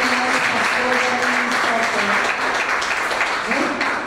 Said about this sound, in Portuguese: Vamos receber a nossa irmã Tereza com palmas para Jesus